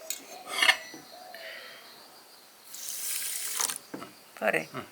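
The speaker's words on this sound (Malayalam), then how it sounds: "ഒരു കുറച്ച് വെള്ളം ഒഴിച്ചാൽ" Water is poured into a pot of sugar to make syrup, giving short splashing pours and a longer running-water stretch alongside light clinks of utensils, close by and fairly quiet.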